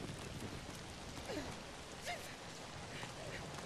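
Rain in the ZOMBI video game, a quiet, even wash of falling rain that holds steady throughout with no distinct breaks.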